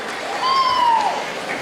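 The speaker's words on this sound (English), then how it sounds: "Give him a huge round of applause, ladies and gentlemen." Concert audience in Mumbai at a school diamond jubilee applauding, a steady wash of clapping with a single drawn-out whistle rising above it partway through.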